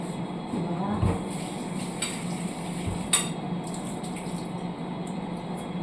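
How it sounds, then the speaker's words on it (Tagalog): Vegetables are rinsed under a running kitchen tap, with a steady hiss of water into a sink and a few brief clinks and splashes as they are handled, at close range. "So, hugasan natin. Marami siyang gulay."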